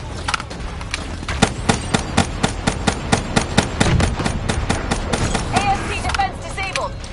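Small arms gunfire in a PS4 shooter, a rapid string of loud sharp shots in uneven bursts, with game effects and brief voice chatter underneath toward the end.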